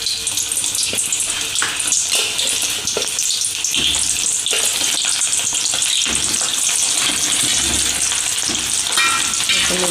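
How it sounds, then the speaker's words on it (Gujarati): Onions sizzling and frying in hot oil in a pan, a loud continuous crackle with occasional stirring clatter throughout. "તો હવે આપણે તળવા માટે ડુંગળી એડ કરી દઈએ"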